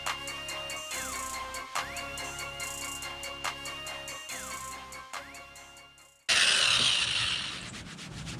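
Eraser wheel on a drill removing adhesive marks from a Dodge Charger body after side moldings come off, a steady whirring rub with rhythmic ticks and pitch shifts, ending in a louder harsher grinding surge.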